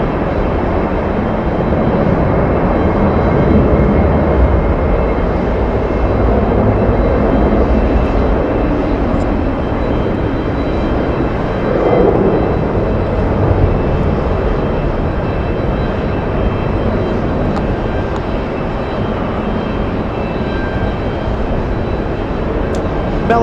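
An airliner departing JFK airport, its broad jet engine roar filling the air loudly and steadily throughout, with no talk over it.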